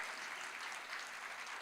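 Church congregation applauding during a sermon, a steady, dense wash of clapping that holds evenly throughout at a moderate, somewhat distant level with no pauses.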